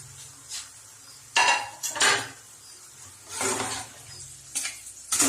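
Mutton with coriander and Kashmiri chilli powder being stirred in a pot, a metal spoon scraping and clanking against the sides in several distinct bursts, with a faint sizzle underneath and no talking.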